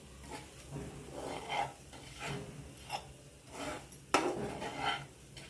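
Dry date powder roasting with a little ghee in a pan over low heat for a dink ladoo sweet, heard as close scraping and stirring of a spoon against the pan, with soft rasping strokes and a sharper metallic knock near the end.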